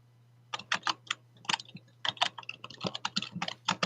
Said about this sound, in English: I'm sorry if y'all were hearing that typing.